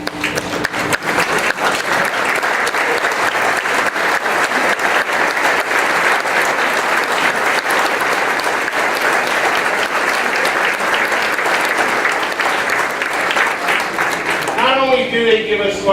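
Long, sustained applause fills a hall at a Table of Honor ceremony as a standing audience thanks sponsor St. Luke's. The clapping is dense and loud, holds steady throughout, and gives way to a voice beginning to speak at the very end.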